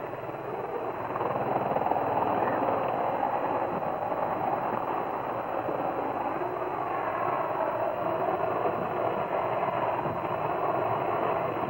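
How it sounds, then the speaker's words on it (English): Helicopter landing during Pope John Paul II's 1979 visit to Iowa, a steady, loud, muffled rotor and engine rumble that holds on without a break, heard over a band-limited broadcast recording. "Well, the helicopter now has landed."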